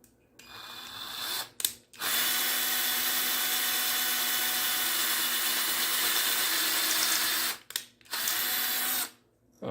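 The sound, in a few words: drilling a 3D printed Super Mario statue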